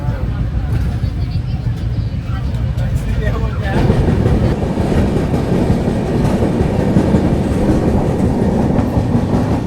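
Maithili Express passenger train running on the tracks near Barauni Junction at about 55 km/h, a loud continuous rumble with rattling carriage noise and clatter, the roar swelling partway through.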